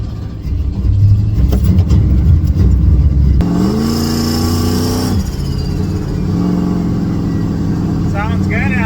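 A small engine in a miniature Ford F-150 truck rumbles loudly, revving up through gear changes and droning steadily as the vehicle drives, with a brief voice near the end.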